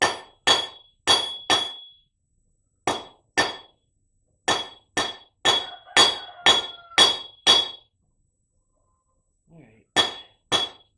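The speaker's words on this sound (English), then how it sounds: "Hit the anvil." A hammer rings sharply on a steel anvil while leaves are forged, struck in quick bursts of single blows and short rhythmic runs with bright metallic ringing, with brief pauses between sets.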